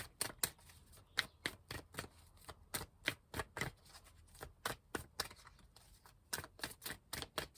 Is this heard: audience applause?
no